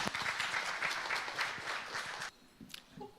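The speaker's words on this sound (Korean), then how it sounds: "큰 박수로 맞아주십시오" Applause from a seated audience welcoming presenters at an agricultural policy session, a dense burst of clapping for about two seconds that then quickly thins out and stops.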